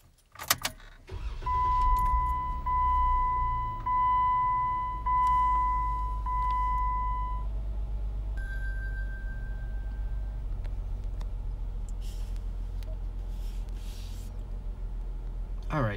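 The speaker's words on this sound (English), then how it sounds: "let's go ahead now and just turn on the car" A car is switched on: a steady chime tone with regular ticking beeps sounds over a low, continuous engine rumble, followed later by a brief higher tone while the engine keeps idling.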